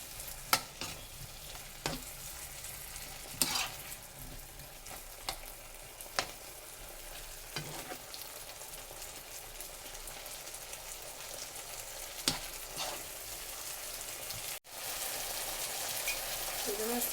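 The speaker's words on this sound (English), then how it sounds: "And then stir." Corn starch pap being stirred in a pot, a steady bubbling, crackling texture with occasional sharp scrapes of the spoon against the pot, continuing throughout with a brief break near the end.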